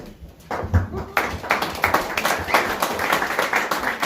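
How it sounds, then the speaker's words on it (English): Audience applause at a school district board candidate debate, starting sparse and building into steady moderate clapping from a room of people after a brief quiet start. "Round of applause again for Sid Malone."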